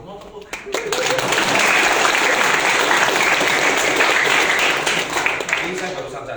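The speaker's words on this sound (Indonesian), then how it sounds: "Dong tepuk tangan" A crowd at a meetup in Jakarta claps steadily in dense, sustained applause that swells in quickly and holds for several seconds, with a voice faintly mixed underneath.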